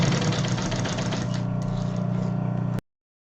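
A sewing machine stitching a bias binding closure with a 4.5 stitch length, a close, steady motor hum and rapid needle rattle running continuously before stopping abruptly.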